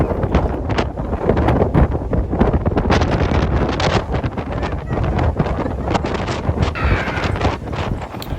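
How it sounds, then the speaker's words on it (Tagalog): Strong wind on high ground in Japan in autumn roars and buffets the microphone continuously, loud and gusty throughout, with rumbling low-end pressure. "dito lang po sa taas ang malakas ang hangin"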